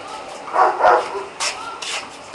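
A dog barks a few times close by, short muffled woofs spaced out, followed by a couple of fainter yips.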